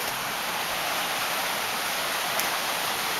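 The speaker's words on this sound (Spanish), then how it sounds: "Y la cascada Limón Indanza." Limón Indanza waterfall in the Ecuadorian Amazon rainforest, a steady, dense rush of falling water that stays even and unbroken throughout, moderately loud with no voices.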